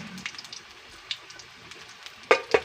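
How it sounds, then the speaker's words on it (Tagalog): Tortang dilis, an anchovy omelette, frying in a pan with a soft steady sizzle, faint crackles scattered throughout and two sharper spatters near the end; no one speaks. "nagpiprito tayo ngayon ng napakasarap na tortang dilis"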